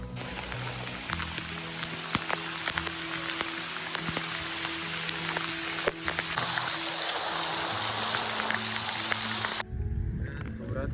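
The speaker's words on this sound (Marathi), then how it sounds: "अचानक पाऊस आलो." Steady monsoon rain pours down in a Konkan village in a dense, continuous hiss, with scattered louder drops and splashes near the listener throughout.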